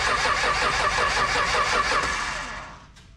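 A car engine cranks and fires, a steady loud churning of the starter and engine that carries on for nearly three seconds before fading and cutting off abruptly.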